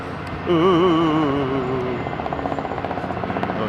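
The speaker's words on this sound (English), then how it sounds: "Scary copter, low lights, scary copter." Helicopter flying near Heathrow airport, a loud close rotor drone whose pitch wavers as it passes, settling into a rhythmic blade thump that fades slightly.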